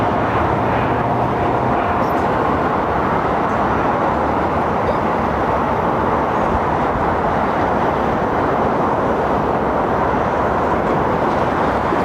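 An ATR turboprop airliner at Heathrow produces a loud, unbroken engine roar with a deep rumble that holds steady throughout.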